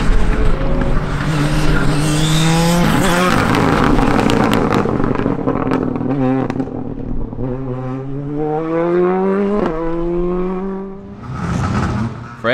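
An R5 rally car races hard along a stage, engine loud and close, revving up and down through gear changes with sweeping pitch climbs and a brief tire squeal, no talking over it.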